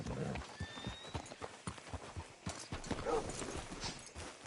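Horse hooves clip-clopping at a walk in the video game Red Dead, a regular sequence of distinct hoof strikes with a brief whinny and faint background sounds, moderately quiet.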